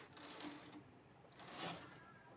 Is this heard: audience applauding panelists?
no